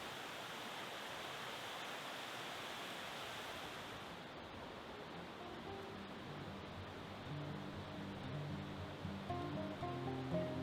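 A stream of water flows between ice in a winter mountain forest, a steady broad rushing wash throughout, with faint tonal sounds rising toward the end.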